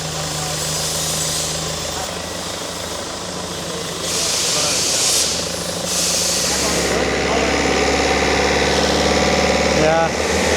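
A new generator aboard a $1.5M catamaran runs with a steady engine drone and hiss, with people talking over it throughout.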